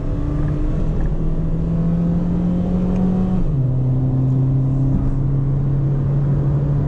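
A 2008 Honda Jazz Sport pulls hard in second gear, its engine drone rising steadily in pitch, then briefly dipping before climbing again, loud and continuous from inside the cabin.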